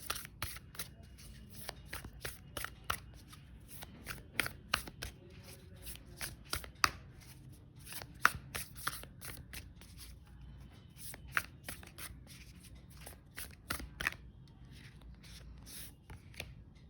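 Tarot cards shuffled by hand during a reading, a steady run of crisp riffling snaps and soft slides, close and fairly quiet, with no talk over them.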